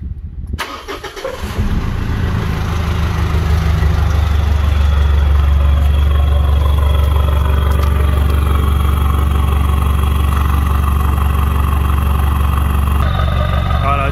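A Mitsubishi ML Triton L200 ute fitted with a 3-inch exhaust, dump pipe and high-flow cat starts up and settles into a steady, deep idle, loud and close, with the low rumble holding evenly throughout.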